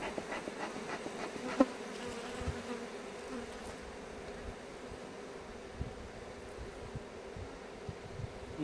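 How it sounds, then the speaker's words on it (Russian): Many honey bees buzz continuously close by while being shaken into a hive, a dense droning hum broken by a few soft clicks and knocks of handling. "И пчелок мы высыпаем."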